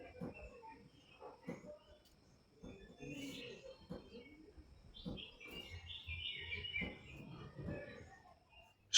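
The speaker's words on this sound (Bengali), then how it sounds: "সকালে ঘুম থেকে ওঠার পরে পাখিদের এই কিচিরমিচির আওয়াজগুলো কিরকম লাগে," Birds chirp and tweet in the quiet morning under an open sky, with faint, scattered calls spread across a soft background.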